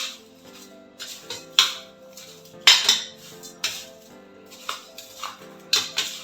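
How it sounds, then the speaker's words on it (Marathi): Lemon pieces being mixed with spices and sugar for pickle, heard as irregular metallic clinks and scrapes of a spoon against a steel bowl, sharp and close with short pauses between strokes. "आपल्याला सगळं हे एकत्र मिक्स करायचं आहे"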